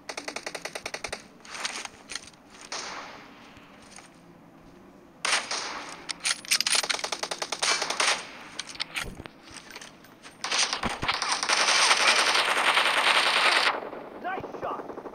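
Rapid automatic gunfire from the video game BGMI, in bursts of crackling shots separated by quieter gaps, close and loud, with a long sustained burst near the end and occasional talk.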